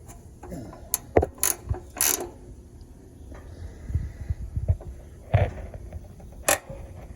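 A ratchet with a 6-point socket works a corroded plastic nut on a Honda GX240 engine carburetor, giving several short bursts of close clicking between quieter handling thuds, with no talk.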